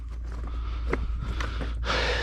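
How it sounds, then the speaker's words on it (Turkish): Heavy, uneven breathing close to a head-mounted GoPro while picking kapya peppers outdoors, several huffs and gasps ending in a longer breathy exhale. "GoPro'dan biraz sesim böyle çok nefes alıp veriyormuş gibi gelebilir."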